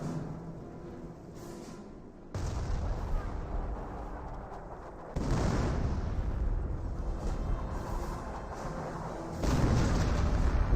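Battle noise around a Flak 88 under fire in Company of Heroes, with heavy booming bursts and rumbling explosions that step up in loudness in several surges, with no voices.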